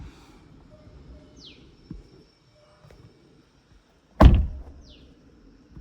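Door of a 2026 Hyundai Exter SX AMT being opened: a single sharp, close latch clunk rings out about two-thirds through, with faint cabin chimes and quiet ambience around it and no talking.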